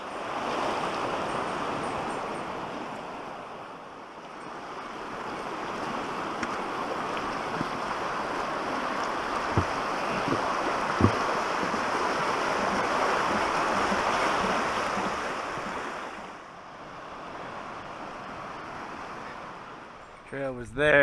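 Water rushes continuously in a steady broadband roar that dips briefly partway through, like a creek flowing nearby.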